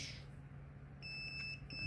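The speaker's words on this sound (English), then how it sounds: "it should beep all the time until I push the switch in" A continuity-tester beep from alligator clips hooked to a brake light switch on a C10 truck wired for 700R4 torque converter lockup: a thin, steady electronic tone sounding continuously in the second half, quiet and alone.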